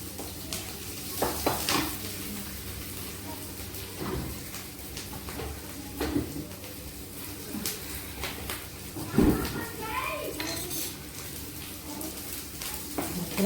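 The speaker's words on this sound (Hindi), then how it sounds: "थोड़ा प्याज भून जाए" Onions fry in oil with asafoetida, a continuous sizzle close by, broken by irregular scrapes and knocks of a spoon against the pan.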